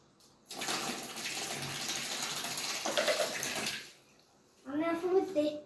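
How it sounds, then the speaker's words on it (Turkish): Water pours and splashes steadily over a homemade toy water mill for about three seconds, fairly close, then stops, and someone speaks briefly afterward. "Bugün bu yani su dökülmelerini çalıştırıyoruz"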